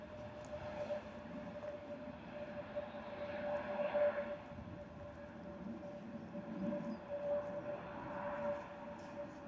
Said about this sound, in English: here comes our Turkish Airlines A321neo